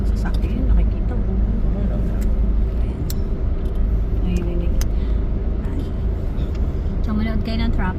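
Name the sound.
road traffic on EDSA near Taft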